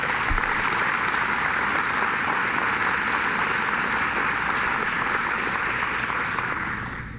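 An audience at a regional airport announcement bursts into sustained, even applause, a dense wash of many hands that holds steady and then fades slightly at the end, with no speech over it.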